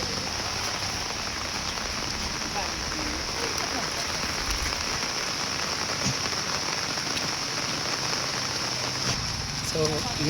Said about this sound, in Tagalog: kay ulan man nga kusog karon